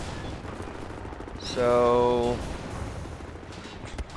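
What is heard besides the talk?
submachine gun fire in video game Wolfenstein The New Order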